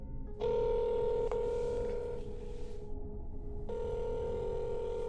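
Telephone keypad tones sound in two long, steady bursts with a short break between them, close and clear, with no talking.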